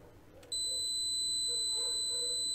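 A ZOYI ZT-MD1 LCR meter gives a single sustained electronic beep while measuring capacitors on a circuit board, a clear steady tone that starts suddenly and holds over a quiet background.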